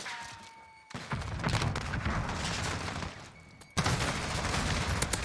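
Gunfire rattles through a competitive first-person shooter match, with dense, loud volleys of rapid shots in two long bursts separated by a brief lull. No voices are heard.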